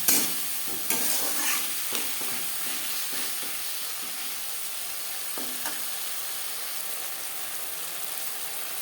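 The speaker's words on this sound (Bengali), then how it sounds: "টমেটোর সাথে লবণ হলুদ ও মশলা বেশ ভালো করে মিক্স করে দেবো" Ground ginger and green chili paste stirred with tomato, salt and turmeric in a hot pan for a Bengali koi fish curry: a steady sizzle with irregular scraping strokes of the spoon, loudest at the start, with no voices.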